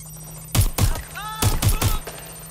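Gunshots in Watch Dogs Legion ring out as five loud, close cracks in two groups, separated by a short squealing sound.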